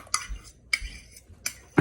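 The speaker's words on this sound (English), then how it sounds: "I'm going to go ahead and grab my chili out of the microwave." A bowl of chili is lifted out of a microwave and set down, giving three separate clinks of ceramic against a hard surface at a steady pace, close and fairly loud, with a brighter knock at the end.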